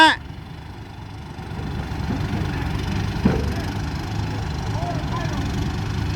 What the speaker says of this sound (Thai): รถไถเดินไปวะ